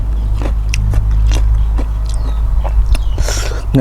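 Someone bites into and chews mango, giving a series of close, crisp wet bites and chewing clicks over a constant low hum.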